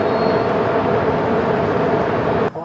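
Steady loud whirring rotor drone of a police drone flying overhead during a nighttime felony standoff, a continuous broadband hum that cuts off abruptly near the end.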